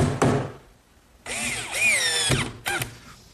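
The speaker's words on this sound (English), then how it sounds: "I'm using screws, being sure to pre-drill some holes" A power drill bores pilot holes for screws into oak boards, with short whirring bursts rising and falling in pitch, one brief burst early then a longer sustained run and a final short spin, close and fairly loud.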